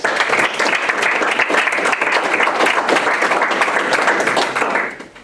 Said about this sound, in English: So that right there, I think, deserves a hand of applause